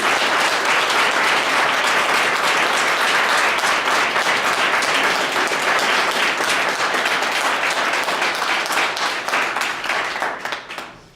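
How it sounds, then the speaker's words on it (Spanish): A church congregation at a healing prayer service applauds loudly and continuously for about ten seconds, a thick, full roar of clapping from many hands that thins and fades out at the end. "Pues hay una ofrenda de palmas a Cristo Jesús."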